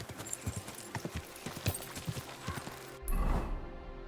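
Horse hooves clip-clop in the video game Kingdom Come Deliverance 2, a steady close run of clear hoof strikes, followed by a brief louder snort or rustle near the end.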